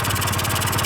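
A Honda Elite scooter engine with a clogged carburetor runs at a rough, rapid putter, loud and close, with an uneven pulsing beat and no speech.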